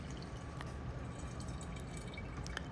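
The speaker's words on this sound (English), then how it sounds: "And now I'm just going to wash the strawberries." Strawberries are rinsed in water, a steady faint trickle and splash with small drips, continuous and close, with no talking.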